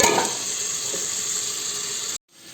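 Hot water poured into a pan of frying eel fish bursts into a loud, steady sizzle with hiss and bubbling, then cuts off abruptly near the end.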